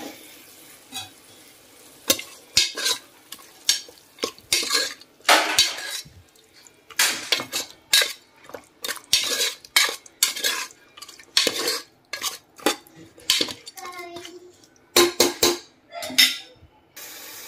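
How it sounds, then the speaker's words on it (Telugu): Marinated chicken and cashew pieces fry in a pan while a metal spoon stirs and scrapes repeatedly, sharp clanking strokes in an irregular rhythm over a soft sizzle, close and clear. "ఇప్పుడు మ్యారినేటెడ్ చికెన్ని కూడా యాడ్ చేసేసుకుంటాను."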